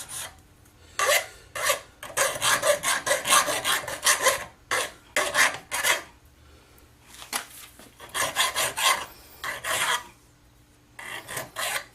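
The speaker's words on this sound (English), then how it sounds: "Do a little bit of draw filing on it to get rid of some tool marks." Draw filing a metal repair part for a headless guitar to clear tool marks: loud, close rasping file strokes come in rhythmic bursts, separated by brief pauses, with no speech.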